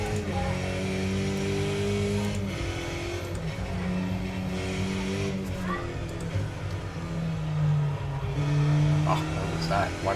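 A simulated Skip Barber race car at Bathurst in iRacing drones with a steady engine note that rises and falls through gear changes and throttle shifts, while someone talks over it throughout.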